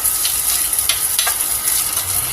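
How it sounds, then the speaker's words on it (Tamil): Onions frying in a pan on a low stovetop flame for spinach masiyal, a steady close sizzle with a few soft stirring scrapes and no talking. "இப்போ வேணால் நம்ம ஸ்டவ் ஆன் பண்ணி லோ ஃப்ளேமில் வச்சு குக் பண்ணி வெங்காயத்தை வேக வச்சுக்கலாம்"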